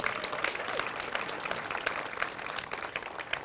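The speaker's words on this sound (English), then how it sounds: "please give them a big round of applause" Audience applause at a county ribbon cutting for a new 50+ senior center, a steady wash of many hands clapping at moderate volume, fairly distant and sustained without pause.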